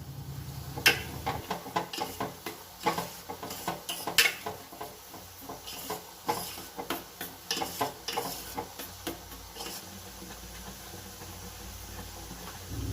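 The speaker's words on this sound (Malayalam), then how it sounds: "അപ്പോൾ അണ്ടിപ്പരിപ്പിന് ചേർത്തിട്ട് നന്നായിട്ട് മിക്സ് ചെയ്ത് കൊടുക്കാം" Cashews being mixed into thickening sweet pongal in a pan, a steady run of close spoon scrapes and knocks against the pan with a faint sizzle beneath, no talking.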